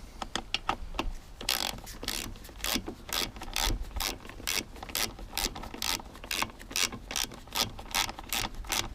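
Socket wrench ratcheting on bolts of a Mountfield HP474 lawn mower, a steady run of close, crisp clicks in short bursts with brief pauses, no talking.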